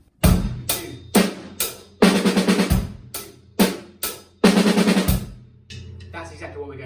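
A drum fill in 11/8 with the last three eighth notes played as sixteenths: a loud, close run of punchy drum and cymbal hits in an irregular groove, speeding into rapid strokes near the end before fading into a ringing tail.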